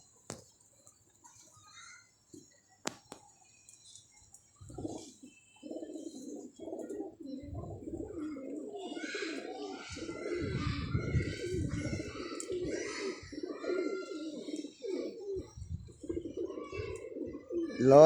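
Pigeons coo in low, throaty, repeated bursts, close by and growing busier as they go on, with faint chirps and a few light taps mixed in.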